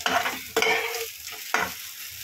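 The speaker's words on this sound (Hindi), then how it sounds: "इसको मैं अच्छे से इसमें रोस्ट कर रही हूँ।" Capsicum roasting in a small pan, stirred with three distinct scraping strokes over a soft sizzle, close and clear, no voices.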